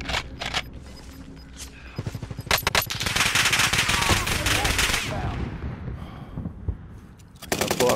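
Call of Duty Warzone firefight on Caldera: rapid machine-gun bursts and scattered gunshots, loud and close, building into a sustained volley before tapering off and then resuming in sharp bursts.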